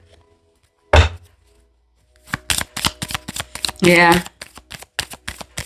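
A deck of cards is shuffled up close during a card reading: a short riffle, then a rapid string of crisp card slaps and flicks, with a brief spoken word partway through.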